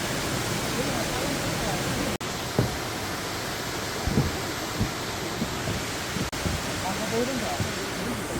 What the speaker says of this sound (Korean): 여기가 용인 폭포.